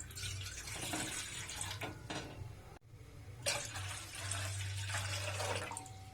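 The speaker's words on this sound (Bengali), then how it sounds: "এক লিটার মতো জল দিচ্ছি।" About a litre of water pours steadily into a bowl, to be heated for boiling fried moong dal in a mixed vegetable dal. A continuous close splashing rush breaks off briefly partway through, then resumes.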